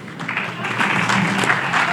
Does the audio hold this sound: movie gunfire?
no